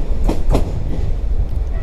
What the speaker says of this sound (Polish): Pojechały koleje mazowieckie.